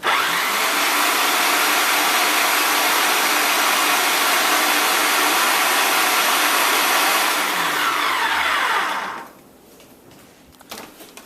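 A blender purees jerk marinade in a loud, continuous whirring roar that runs steadily for several seconds, then spins down abruptly, leaving quiet clatter.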